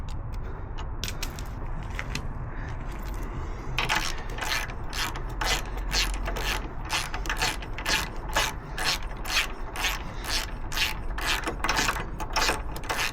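Ratchet wrench clicking rapidly and steadily while undoing bolts on a Harley-Davidson motorcycle, close and fairly loud, a continuous run of sharp ticks after a brief quieter start, over a low background hum.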